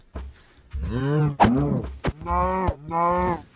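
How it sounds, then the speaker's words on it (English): Cows moo several times in a Minecraft-style survival video game, loud drawn-out lowing calls close together, each a few tenths of a second long. "Get some leather and some meat from these wandering cows"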